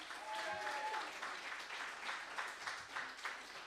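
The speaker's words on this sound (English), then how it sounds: "please give a huge round of applause for Michelle Wilson" A theatre audience at an Edinburgh Fringe comedy show applauds a performer, with a full, steady round of clapping and a little crowd noise throughout.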